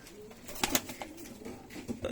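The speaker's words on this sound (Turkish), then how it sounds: "Valla sesleri de var yavruların." Pigeon chicks give soft, close cooing calls in a few short bursts over a faint background murmur.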